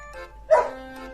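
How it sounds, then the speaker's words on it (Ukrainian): A single small dog gives one short, high yip, close by, with faint background hum before and after. "Ой, хто це бігає? Це песик."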